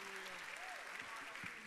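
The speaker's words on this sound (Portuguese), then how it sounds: "vamos aplaudir aquele que era, aquele que é e aquele que há de vir" Church congregation applauding during a Baptist Sunday morning service, a brief, dense burst of clapping with a voice and some tonal sound running beneath.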